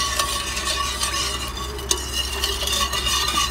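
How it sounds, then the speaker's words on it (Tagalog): Pinoy hotcake mixture being stirred to dissolve brown sugar: continuous close scraping and swishing of a utensil in a bowl, steady and fairly loud, with a small knock midway and no speech. "Mix lang natin hanggang sa matunaw yung asukal."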